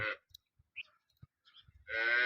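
A dairy cow, a high-yield milker in calf, gives two loud close moos, one at the start and one at the end, with faint clicks and shuffling between them.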